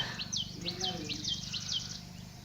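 A sparrow chirps in the morning near a home, giving a quick series of repeated bright, sliding tweets at a steady rhythm over a low background hum, fairly close and clear.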